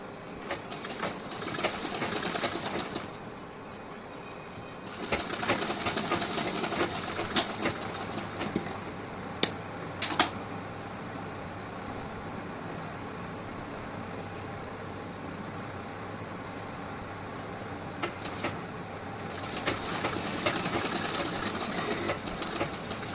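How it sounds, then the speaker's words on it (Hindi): A sewing machine stitches piping fabric for a blouse, running in three steady whirring bursts at close range, separated by pauses with scattered clicks and handling noises. "अब हमें पाइपिंग की सिलाई करनी है"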